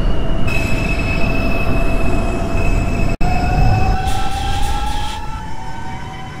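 A simulated R142 subway car on a Bronx-bound 4 Express runs with a loud, steady rumble and a high wheel squeal that slowly rises in pitch, broken by one sharp click, with no voices.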